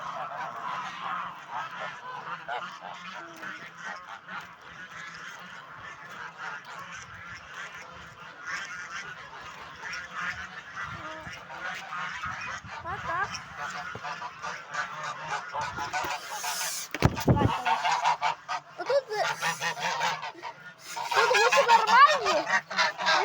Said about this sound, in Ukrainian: Не переживайте гуси